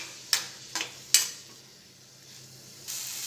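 Capsicum, onion and tomato stir-fried in a kadai over high gas heat, with three sharp scraping strokes of a spatula close by, then a low steady sizzle that swells again at the end.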